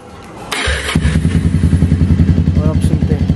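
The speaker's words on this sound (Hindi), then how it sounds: "तो यहाँ पे गाइस अभी बाइक के साउंड को करते ऑन" Motorcycle fitted with an Akrapovic exhaust starts with a thump and clatter, then settles into a loud, close, throbbing idle with a steady pulsing rhythm.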